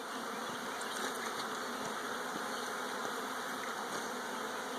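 Honeybees buzz in a dense, steady drone while a swarm is being hived from a swarm trap, close and continuous with no talking.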